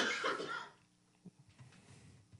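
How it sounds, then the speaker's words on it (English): A single harsh cough near the mic, followed by faint low shuffling noises. "I had to cough."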